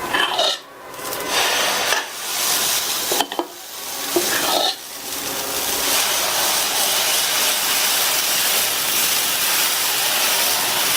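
Dosa batter hits a hot oiled griddle and sizzles loudly and steadily, with a few brief scraping spreading strokes early on before an even, continuous frying hiss.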